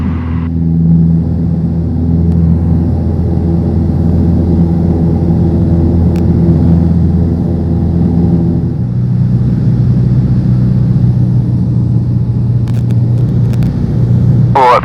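Heard from inside the cabin, the engine of a Piper PA28 Warrior light aircraft drones loudly and steadily through the takeoff roll, then shifts to a slightly lower, rougher tone as the plane climbs away, with no talking.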